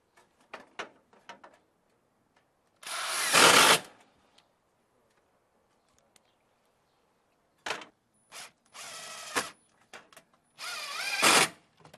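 A power drill drives screws into aluminum soffit J-mold against a brick wall: four short whirring bursts of a second or so each, close and loud, separated by quiet pauses with small handling clicks.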